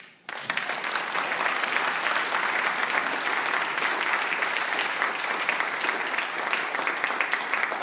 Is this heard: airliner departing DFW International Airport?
no